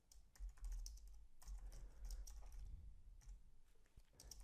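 Steady typing on a computer keyboard, a fast run of close, crisp key clicks with brief pauses, heard alone in a quiet room with low background hum.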